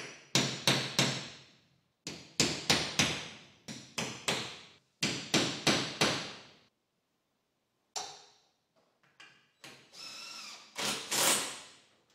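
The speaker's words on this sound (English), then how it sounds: "I'm going to go ahead and just use a punch to kind of transfer exactly where I want to put my" A hammer strikes a punch to mark screw holes for mounting a Mr. Cool heat pump bracket, crisp close metallic taps in quick bursts of three or four with short pauses, followed by scattered lighter clinks and scraping.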